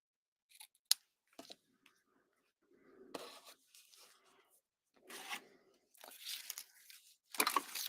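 Scissors trimming ribbon tails in a quiet room, a handful of close, crisp snips spaced irregularly with faint rustling of ribbon between them.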